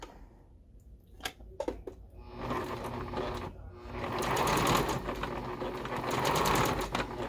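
A sewing machine runs in short bursts, then stitches steadily and loudly for several seconds while sewing a zipper into a pillow, with a few clicks and handling noises early on.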